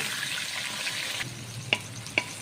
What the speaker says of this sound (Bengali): আর এই যে দেখো মাংস ভাজা হচ্ছে